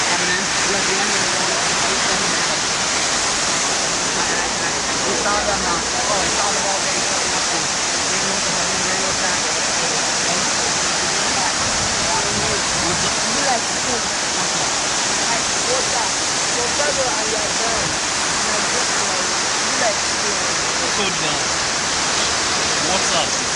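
Running water pouring steadily at a memorial, a broad continuous rush like a small waterfall that holds an even level throughout, with faint voices mixed into the wash.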